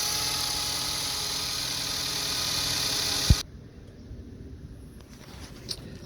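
A 2013 Ford Escape 2.0 with a misfire fault idles with a steady, buzzing hum, then is switched off abruptly, leaving near silence and faint small knocks.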